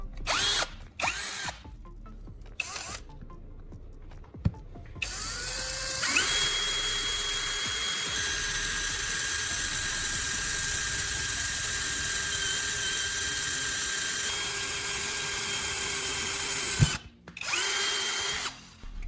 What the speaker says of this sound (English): Drill one hole at that mark and keep the drill straight.